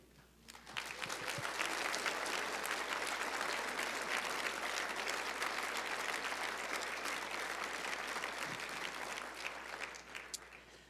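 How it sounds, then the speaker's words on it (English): A sizable audience at a Communities In Schools celebration gives sustained applause for award recipients, rising quickly into a steady, dense wash of many hands that holds for several seconds before tapering off. "join me in clapping to celebrate all of our award recipients, all of our champs, past and present"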